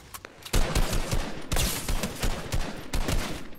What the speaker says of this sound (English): there's so many gunshots all over the place